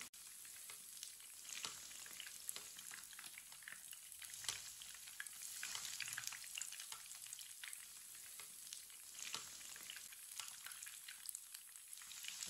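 Sandwich frying in oil in a pan, a soft, continuous crackle and sizzle with scattered pops, close and fairly quiet, with no voices.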